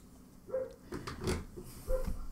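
A happy dog greets someone arriving, giving a few short, excited yelps and whimpers at fairly close range against a quiet indoor background.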